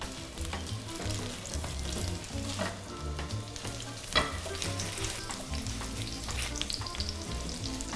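Korean shrimp pancakes sizzling in oil in a pan over medium heat, a continuous crackling fry with occasional scrapes and clatters of the pan being moved about.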